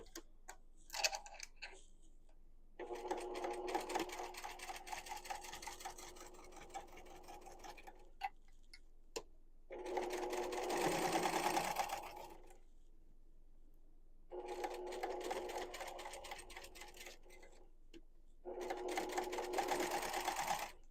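Sewing machine topstitching a plaid fabric book sleeve, running in several steady whirring bursts of a few seconds each, separated by pauses with small clicks and handling noises, close and alone.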